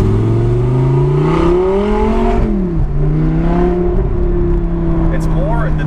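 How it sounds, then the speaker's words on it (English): An Audi R8 V10 fitted with a Fabspeed Valvetronic exhaust, its flaps open, drones loud and close with a deep revving note that rises and dips, rumbling on under continuous talking. "with the flaps open, there we go. Shoots, wants to like shoot fire"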